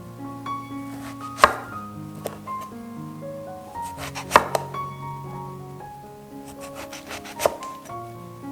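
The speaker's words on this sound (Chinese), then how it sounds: "再将茄子切成丁状" A knife dices eggplant on a cutting board, giving a few sharp, widely spaced chops that stand out over quiet background music.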